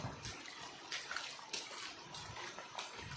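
Water running along a street gutter drain, a steady broadband wash with soft splashes and trickles throughout, moderately close and continuous with no talking.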